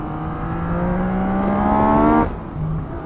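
A 2020 Yamaha MT-09 motorcycle revs close by, its three-cylinder engine climbing in pitch over about two seconds before dropping off sharply, followed by a short lower blip.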